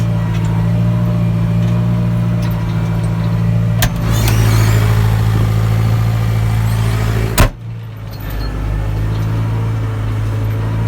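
A tractor pulling a Matris Dragon implement through a beet field gives a steady, loud, close engine drone with a low constant hum, a brief clank near the middle and no talk.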